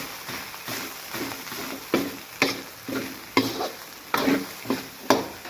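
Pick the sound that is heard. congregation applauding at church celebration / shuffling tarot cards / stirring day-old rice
stirring day-old rice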